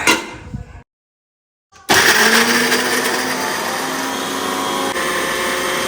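A mixer grinder whirs loud and close while it grinds green chillies at home for spicy chilli chicken. A short burst comes first, then a brief pause, and after that a steady, sustained roar that runs with no talking.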